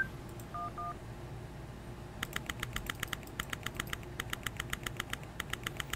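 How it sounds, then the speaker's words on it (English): Phone dialing tones from a cell phone in the Henry Stickmin Collection game: a rapid, steady run of short, evenly spaced keypad beeps after a couple of quiet opening tones, clear over a low background hum. "We're not done with the cell phone yet, because he still needs to call the lawyer."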